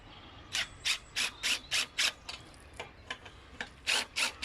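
Wire being twisted tight around a metal rod on a vegetable greenhouse arch, a run of short rasping scrapes in steady rhythm, close by, with quieter scrapes between and a few stronger strokes at the end.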